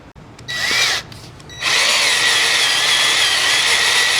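Power drill boring a pilot hole into a Yamaha Tenere 700 motorcycle: a short high whine, a brief pause, then a loud, steady, sustained drilling drone up close.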